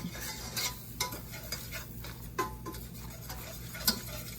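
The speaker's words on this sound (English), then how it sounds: "we're just going to whisk that around until the flour gets just a little brown" A whisk stirs all-purpose flour in a pot over heat, a quiet soft sizzle broken by light irregular scraping clinks of the whisk against the metal.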